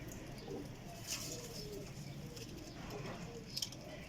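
Sialkoti rooftop pigeons coo softly in a loft, a low steady murmur of several birds with brief higher chirps over a constant background hum, faint voices nearby.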